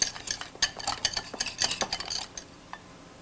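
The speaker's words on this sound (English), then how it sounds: "Whisk it very good so the egg yolks are really under the meat." Egg yolks whisked into a meat mousse in a bowl, a close rapid run of metallic clicks and scrapes from the whisk that tapers off into quiet near the end.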